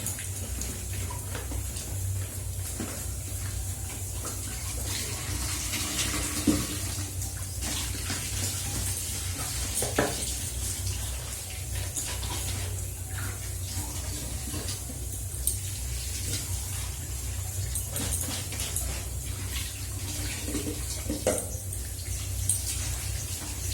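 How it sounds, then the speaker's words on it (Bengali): Tap water runs steadily while bottles are washed underneath, a constant close rushing stream with occasional light knocks and clinks from the bottles. "বোতলগুলো ভিতরে ধুয়ে নেবো, নাহলে গন্ধ ছাড়ে"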